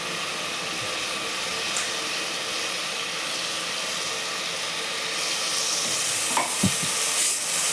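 Ginger garlic paste frying in a pot for homemade biryani gives off a steady hiss close by, and a few clanks of stirring land near the end, the sizzle swelling louder in the last seconds.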